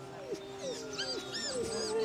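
A dog whimpers and yips in several short, rising and falling whines repeated over about two seconds, fairly close, with a steady low background hum.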